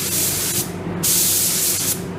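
A paint spray gun at about 2 bar hisses in loud bursts, starting and stopping a few times with brief gaps, close by and steady, over a low background hum.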